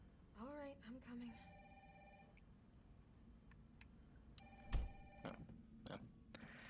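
An old-style telephone rings inside the Resident Evil 3 Remake game, two bursts of bright electronic trilling separated by a pause, with faint game ambience and a few light clicks between.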